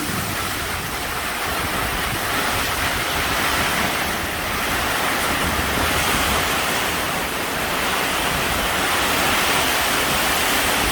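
Strong wind roars during midday rain over flooded rice fields ready for planting, a loud, steady rushing wash that fills the whole scene without pause.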